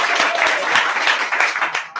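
An improv theatre audience clapping to cast a vote in a brief, loud burst of scattered applause that fades quickly, with no one speaking over it.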